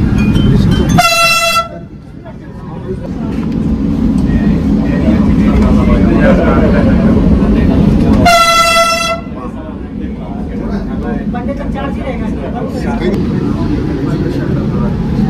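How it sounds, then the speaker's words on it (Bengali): A Kolkata airport metro train on a pre-trial run rumbles steadily while its horn sounds twice in long loud blasts, first near the start and again about halfway, with a person talking over the running noise. "মেট্রো রানিং রয়েছে, মেট্রো চলছে দেখতেই পাচ্ছেন"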